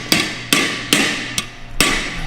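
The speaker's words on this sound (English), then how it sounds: "Yeah, I'll give you my titanium hammer." A titanium hammer strikes an exhaust pipe on a Ford truck. There are five hard metallic blows at an uneven pace, loud and close, with ringing tails and no talk.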